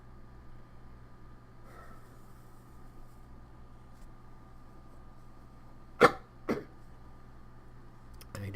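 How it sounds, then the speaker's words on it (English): A person coughs twice in quick succession, close and sharp, against a quiet steady hum from a computer game session, with a further brief throat burst at the very end. "I do apologize for the coughing."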